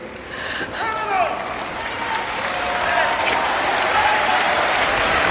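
Applause rising and holding steady, with a voice heard over it near the start, played back within a radio show broadcast.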